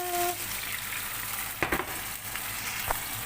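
Water poured into a hot pan while making chicken tinola, a soft continuous sizzle and hiss with a couple of brief sharper splashes, fairly quiet and with no talking.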